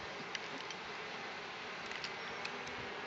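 Bees around an open beehive, a faint, steady buzzing drone with a few brief louder passes as individual insects fly close, heard alone at low volume.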